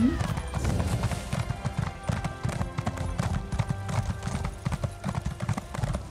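A pony's hooves clip-clop in a quick, steady rhythm in the video game The Elder Scrolls Online, with a brief whinny near the start and faint voices underneath.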